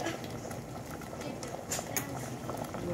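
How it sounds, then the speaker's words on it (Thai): Bamboo shoot curry, Lao style, bubbling at a boil in a pot: a steady, moderately soft bubbling and gurgling with occasional louder pops, under background noise. "เดือดแล้วค่ะ"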